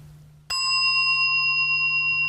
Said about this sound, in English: Now the third sound of the bell.